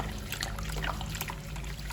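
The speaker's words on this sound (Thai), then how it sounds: "เทน้ำเกลือไปก่อน" Salt water trickles and splashes steadily at a low level as it is poured, a continuous watery dribble with no talking.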